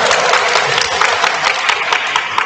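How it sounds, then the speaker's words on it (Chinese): An audience applauds a group of sports medal winners at a workshop, a dense, loud burst of clapping that runs for a few seconds with crowd noise mixed in. "鼓掌， 好唔好？"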